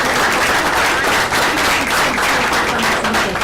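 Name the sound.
audience applause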